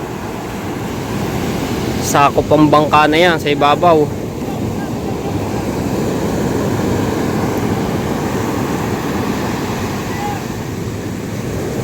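Big sea waves roll and wash near a boat, a steady windy surge with strong wind buffeting on the microphone, and someone speaks briefly early on over the water.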